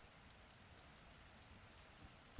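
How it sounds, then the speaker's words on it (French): Rain beats against the windows of an old, isolated house, heard as a faint, steady hiss of patter throughout with a brief thump at the very end. "La pluie battait violemment contre les fenêtres de la vieille maison isolée"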